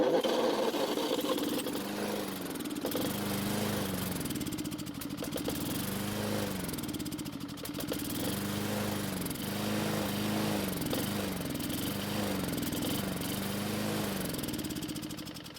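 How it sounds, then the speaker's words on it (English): A lawn mower engine runs steadily close by for the whole stretch, a loud continuous mechanical drone with a rhythmic wavering pitch as the speed rises and dips slightly, with no talking over it. "I had it running like that for about a minute."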